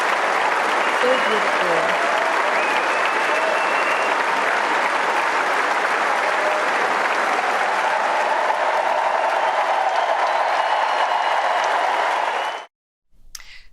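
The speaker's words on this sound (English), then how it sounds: "Such a warm applause." Warm applause greets Princess Catherine at Wimbledon, a loud, dense crowd ovation that runs steadily for about twelve seconds before cutting off abruptly, with a voice speaking briefly over it.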